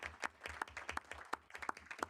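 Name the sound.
audience applause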